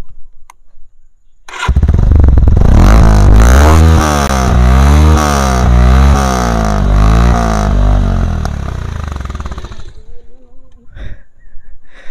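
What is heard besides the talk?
modified Bajaj Pulsar motorcycle exhaust revving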